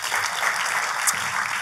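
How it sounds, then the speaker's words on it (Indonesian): A church congregation claps during a sermon, a brief, fairly soft burst of applause heard from a distance in the hall. "Kita kasih tepuk tangan."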